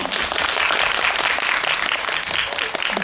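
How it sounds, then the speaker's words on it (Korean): Audience applause at a Korean film GV screening event, steady and dense crowd clapping filling the whole stretch without pause. "박수 한번 부탁드릴게요"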